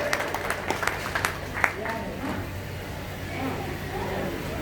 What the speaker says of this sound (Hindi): भाई आप लोग तालियां बजाते रहिए